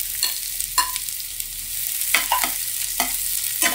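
Hot oil sizzles with a constant hiss as tempering goes in, broken by a few pops and brief clattering stirs, for a leftover-rice egg dish.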